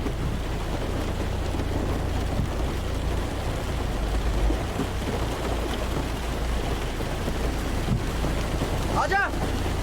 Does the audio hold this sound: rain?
yes